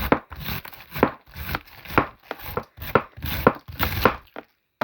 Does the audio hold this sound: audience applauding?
no